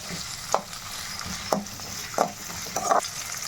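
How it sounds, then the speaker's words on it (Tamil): Chopped shallots and onion sauté in a pan for a drumstick tamarind curry, a steady low sizzle marked by four distinct spoon scrapes at regular intervals, close up with no voice. "இது நல்லா வதக்கிக்கலாம்"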